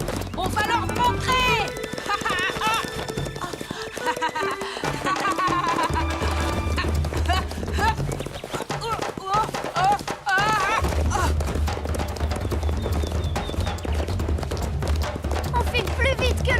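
Galloping hooves of several horses drum steadily in an animated Yakari cartoon, with a brief whinny mixed among loud voices, music and other cartoon sounds.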